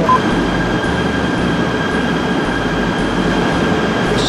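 Train at a railway station in Malaysia, a loud, steady rumble of rolling railcars with continuous wheel noise and a faint high squeal running underneath, with no talking.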